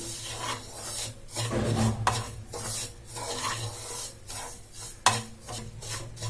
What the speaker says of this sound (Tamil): ஸ்டவ் வந்து சிம்ல வச்சுட்டு இதை வந்து நல்லா மிக்ஸ் பண்ணிடலாம்